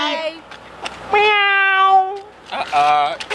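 A cat meows repeatedly, close and loud: a short call, a long drawn-out meow, then a rising, wavering one. A few brief vocal sounds fall between the meows.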